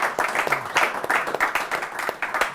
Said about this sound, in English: Can we give a round of applause for Jeff?